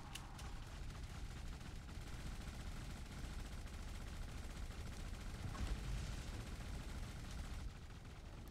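Ship guns fire during a fight in the space game Elite Dangerous, a dense, continuous barrage of rapid blasts layered into a steady roar that swells slightly near the end. The firing is quiet overall.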